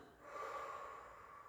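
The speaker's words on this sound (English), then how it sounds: "blow out through the mouth." A single steady exhalation blown out through the mouth during a relaxed back-care workout, a soft breathy rush lasting over a second, close and fairly quiet with no talking.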